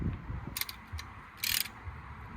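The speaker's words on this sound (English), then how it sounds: "And now I can carry on ratcheting back the brake piston." Quick ratchet clicks in short bursts as a tool winds back the front brake piston on a Ford Focus MK2 1.6 TDCi, close up, with a faint low hum underneath.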